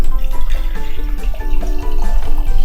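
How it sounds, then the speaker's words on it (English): Hot water poured into a jar, a loud, close, continuous pouring rush lasting nearly three seconds without talk. "Let's fill all of this jar with hot water first, okay?"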